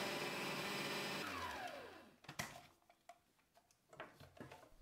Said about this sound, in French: Je hache à nouveau.